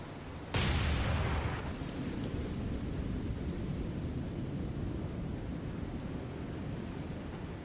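A single heavy boom from a destroyer's guns in the naval video game War on the Sea, set in Operation Watchtower, rolls out and fades into a steady wash of sea and engine noise.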